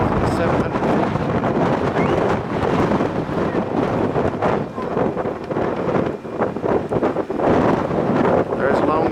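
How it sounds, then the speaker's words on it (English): Strong mountain wind roars across the microphone at the Rainbow Curve overlook, about 10,700 feet up in Rocky Mountain National Park, a loud continuous buffeting gust with someone talking faintly underneath. "Folks, the wind is blowing."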